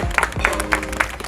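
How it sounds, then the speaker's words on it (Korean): Crew and staff clap on a Korean drama set at the wrap of filming, with bursts of clapping repeating in a steady rhythm at close range. "박수 한번."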